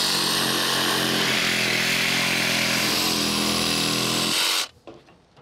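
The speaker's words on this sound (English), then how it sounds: "if you're going to use a sawzall or something of that nature that may have a longer blade" A reciprocating saw cutting a vent hole through a roof, loud and continuous with a steady buzzing drone, then stopping abruptly near the end, leaving faint handling noise.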